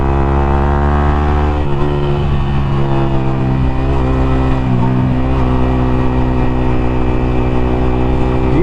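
A Yamaha R15 motorcycle rides on a race track, its engine a loud, steady drone with layered harmonics. The pitch dips briefly around a gear change, then holds level throughout.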